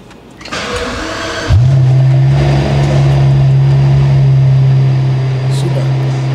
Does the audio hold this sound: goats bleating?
no